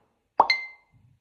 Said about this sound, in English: Facebook Messenger sound.